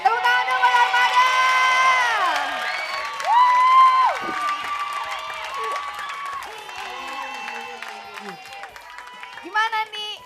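A television studio audience cheers and shrieks for a band, a crowd of high excited voices and whoops rising and falling continuously at close range, with some clapping mixed in.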